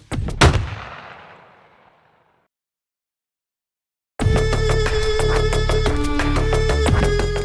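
A single loud gunshot in the video game Lousy Life Lessons cracks sharply and its echo rings out over about two seconds, followed by silence and then dense, loud music.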